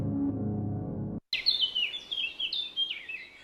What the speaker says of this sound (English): the general sound of the bird chirps will be the same